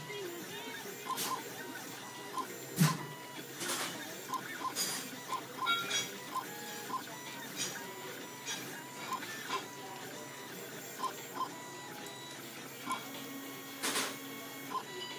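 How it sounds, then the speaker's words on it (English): A Gravograph M40 engraving machine cuts into a thin Red Bull aluminum energy drink can, making a steady whirring, ticking mechanical drone with light clinks and small bursts, close and continuous, with no speech. "And that's actually engraving on a soda can and on a very thin piece of aluminum."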